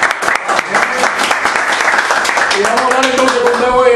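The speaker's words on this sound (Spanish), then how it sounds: "vamos a dar un fuerte aplauso." Strong audience applause and clapping at a live Spanish-language event, loud and sustained, with scattered cheers and voices rising toward the end.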